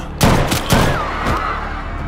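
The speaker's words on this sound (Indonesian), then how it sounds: "Tiba-tiba dua orang polisi yang menganggap Steve sebagai ancaman pun melepaskan tembakan." A burst of gunfire as two police officers open fire in a film scene, several loud sharp shots in quick succession over a dramatic background score, with the echoes trailing off.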